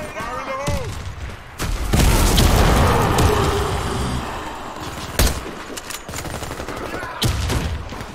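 In a video game shooter, a loud grenade blast rumbles out, followed by bursts of gunfire and sharp cracks. Shouted voice callouts sit under the combat noise.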